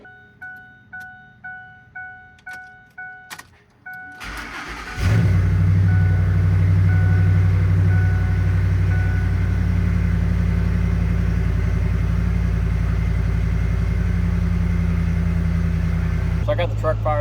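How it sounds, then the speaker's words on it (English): A truck with a newly installed oil cooler and thermostat, heard first through a series of rhythmic chiming warning tones, then cranking and firing up into a loud, steady low idle that runs on close by. "So I got the truck fired up now"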